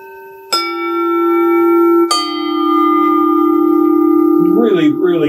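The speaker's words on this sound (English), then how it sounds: "really, really nice bell plate sound." A bronze bell plate from Burma, struck in the middle, rings out with two bright strikes whose long shimmering tones sustain and overlap, with a voice briefly heard near the end.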